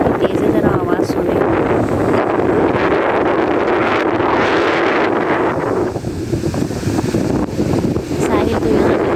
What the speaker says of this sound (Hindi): हवा का शोर कितना है और हवा कितनी तेज़ है, ज़रा आवाज़ सुने